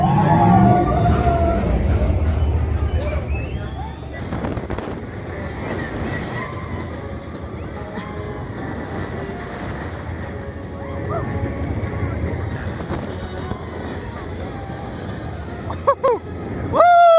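Riding Big Bear Mountain, a long family roller coaster at Dollywood: a constant loud rush of wind and rumbling track noise, with riders' voices and shouts rising over it near the start and end.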